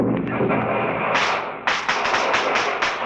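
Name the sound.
fireworks exploding, radio drama sound effect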